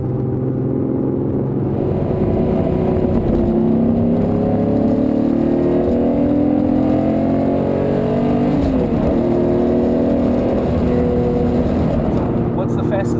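A Lamborghini Diablo engine pulls hard from inside the car, with a loud, steady roar and rising harmonic tones as it speeds up, while a person talks over it throughout.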